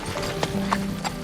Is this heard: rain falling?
no